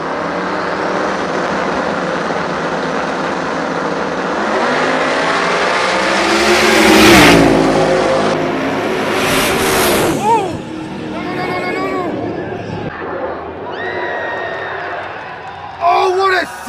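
Car engine revving hard during a free stage run at a competition event, loud and continuous with rising and falling pitch and a swelling burst near the middle, under steady commentator talk.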